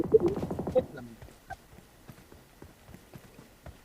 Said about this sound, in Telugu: ఇక్కడ గుర్రం ఉన్నది. గుర్రం పట్టుకొస్తా.